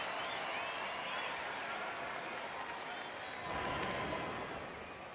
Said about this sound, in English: And now this near sellout crowd trying to help Derek Holland out.